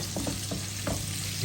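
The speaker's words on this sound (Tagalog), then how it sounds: "sibuyas, bawang yung ating igigisa" Onion and garlic sautéing in a pan for an early-morning Ramadan meal in Kuwait, a steady, loud sizzle with a few soft stirring scrapes and no talk.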